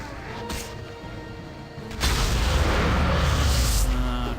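Edwin's fire spell going off in Baldur's Gate 2, a sudden loud whooshing roar that bursts in and sustains for a few seconds after quieter game ambience.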